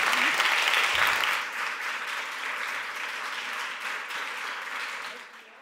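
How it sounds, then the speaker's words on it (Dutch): Warm applause from a seated audience at a Dutch book talk, dense clapping that starts full and gradually thins out toward the end, with no voices over it. "Geef ze een heel hartelijk applaus."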